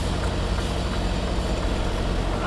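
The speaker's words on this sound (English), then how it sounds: "I should be able to just come straight back with the tractor, and the trailer will put itself in there" A semi-truck tractor reversing a trailer toward a loading dock at a Tyson Foods facility, a loud, steady diesel rumble and broad engine noise that stays constant throughout, with no talking.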